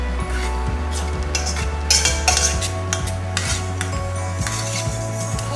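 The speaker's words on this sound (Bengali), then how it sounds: "খুব বেশি নাড়াচাড়া করা যাবে না, আস্তে করে মিশিয়ে দিতে হবে ভাজে ভাজে" A utensil stirs and scrapes against a bowl, clinking rhythmically and close up as an egg yolk mixture is folded into whipped egg white foam for a cheese soufflé omelet; no one speaks.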